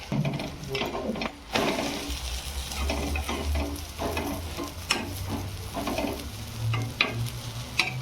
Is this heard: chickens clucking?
no